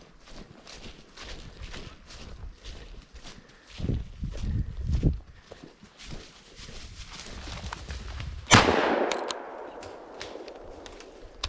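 Out in remote woods on a grouse hunt, footsteps crunch and shuffle before a single loud shotgun blast cracks nearby and rings out, followed by quieter rustling.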